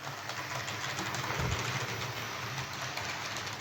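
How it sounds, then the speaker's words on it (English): A model train circles a layout track with a steady, faint rolling rumble and light rail clatter, running evenly on its own at a modest distance. "And there it is, running round the track now."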